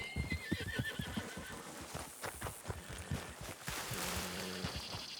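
A horse whinnies loudly near the start while its hooves clip-clop in a quick rhythm, then the footfalls continue irregularly against rustling outdoor noise.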